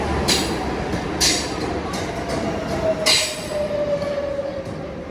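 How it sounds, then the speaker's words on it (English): Inside a double-decker train in Switzerland near Lucerne, a steady rumble with faint wheel squeal and periodic clanks from the rails as it rolls along. "So I have boarded the train, guys."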